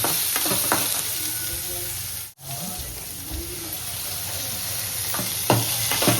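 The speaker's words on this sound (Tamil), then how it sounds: "வெங்காயத்தை போட்டு நல்லா வதக்கணும்." Onions sauté in a hot pan for a South Indian chayote chutney, a loud continuous sizzle broken by a few stirring scrapes and one brief drop-out midway, heard up close without talk.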